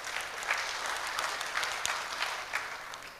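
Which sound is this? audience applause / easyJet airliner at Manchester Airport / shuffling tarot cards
audience applause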